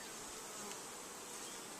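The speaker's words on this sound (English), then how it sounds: "Broadly look at the bees all over the frame." Honey bees buzz over a hive frame, a steady, close, droning hum with no voices present.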